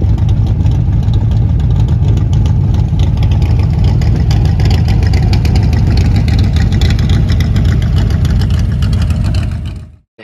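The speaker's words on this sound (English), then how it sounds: "You could hear that nice chop of idle." A 1965 Shelby Cobra replica's high-compression V8 with a Downing Lunetti camshaft and dual four-barrel carburetors idles loudly and close, its steady lopey chop continuing without pause until it cuts off abruptly at the end.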